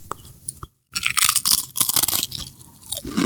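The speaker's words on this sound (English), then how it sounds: "He's just crunching away more than I even know right now." Crunchy food chewed right at the microphone, a run of loud, close, irregular crunches and bites following a brief moment of silence.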